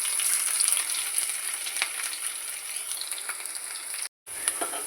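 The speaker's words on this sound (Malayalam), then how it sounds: "ഉലുവയോടൊപ്പം തന്നെ ചതച്ച ഇഞ്ചിയും വെളുത്തുള്ളിയും കൂടെ ചേർത്ത് കൊടുക്കാം" Mustard seeds, fenugreek, crushed ginger and garlic sizzle hard in hot oil, a dense continuous crackle with a few sharp pops and one brief dropout near the end, no voices.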